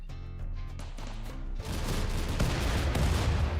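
Turret gunfire in RimWorld, a Warhammer 40k modded battle: a dense, continuous clatter of rapid shots and impacts that starts after a tonal hum and grows loud, filling the rest of the moment.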